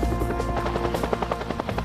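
A Bell UH-1 Iroquois Huey helicopter, a steady loud rotor thump and turbine drone, close and continuous with no talk.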